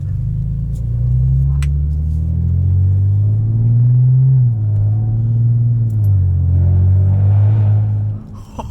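A 2012 Audi A7 fitted with an aftermarket intake and exhaust, driven in sport dynamic mode, gives a loud, steady deep engine rumble that swells and eases with throttle, heard from the cabin with no talking.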